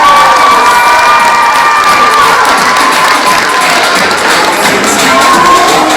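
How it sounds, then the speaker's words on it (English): An audience in a school gym cheers loudly, with children's shrieks and shouts filling the room in a dense, continuous wash for several seconds; clapping is faint under the yelling. "So give a round of applause for them."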